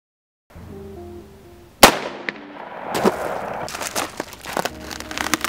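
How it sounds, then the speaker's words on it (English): Rifle shots at a homemade bulletproof vest with steel plates ring out outdoors at a range: a sharp crack, then a second loud report and a cluster of crackling impacts and rustling. "I'm gonna go to the range and shoot it."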